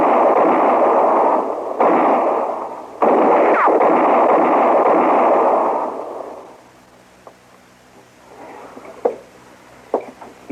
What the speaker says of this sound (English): You think shooting's over?